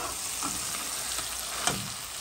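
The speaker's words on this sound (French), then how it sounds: "Maintenant, je vais tourner les pâtés avec ces épices." Liver pâté being stirred with spices in a hot pan for rougail, a steady loud sizzle with a couple of brief spoon scrapes, no talking.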